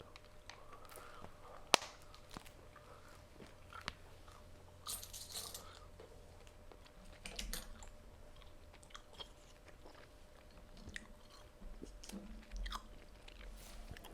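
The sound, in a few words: chewing tropical gum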